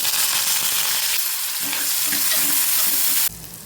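Onion, fennel and curry leaves sauté in hot oil for a goat intestine curry, with a loud, close, steady sizzle and faint stirring scrapes. The sizzle drops off abruptly near the end.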